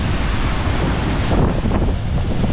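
Seawater spraying and splashing against rocks on a windy Arctic shore, a steady loud broadband wash with wind buffeting the microphone and no voices.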